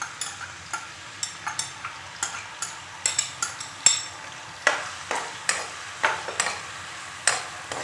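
Onions fry in about four spoons of hot oil in a pan while making maghaz masala, a steady close sizzle broken by regular scraping stirs and light taps of a spoon. Nobody talks.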